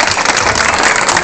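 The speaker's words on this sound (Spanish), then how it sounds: "me tienen un aplauso bien fuerte" Loud, dense applause from a crowd at a groundbreaking ceremony for a 100-home housing project, a steady wash of many hands clapping throughout with no voices over it.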